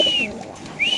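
Two short, high whistled calls from a caged pigeon at a bird market, one at the start and one near the end, with a quieter gap between them.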